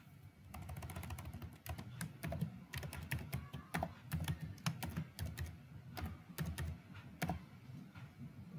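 Someone types a password on a computer keyboard, quiet rapid key clicks in an irregular stream of taps, alone with no talking.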